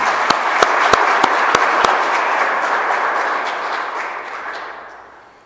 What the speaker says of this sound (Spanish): Denle un aplauso al Niño Dios, hermanos, que está con nosotros